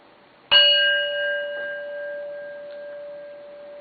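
A heavy metal singing bowl is struck once and rings with a bright metallic tone whose sustained partials fade gradually over several seconds, alone in a quiet room.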